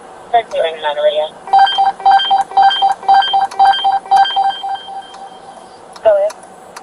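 Police radio ringing tone heard as a repeating series of evenly spaced electronic beeps, close and clear, with brief speech before and after the tones.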